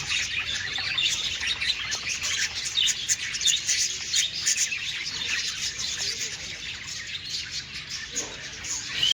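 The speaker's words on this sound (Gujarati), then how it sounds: "નીચે બી છે અલગ અલગ પ્રકારના પોપટ છે," Small parrots of several kinds chirping together, a dense, continuous high twittering that is close and busy, with no talk over it.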